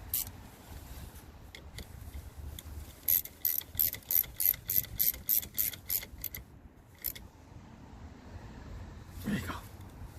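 A ratchet clicks in a quick run of about ten evenly spaced strokes while tightening a battery terminal clamp on a 2018 Jeep Compass 2.4L, close and fairly quiet, with brief metallic handling noises before and after.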